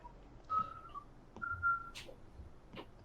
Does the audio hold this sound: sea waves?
no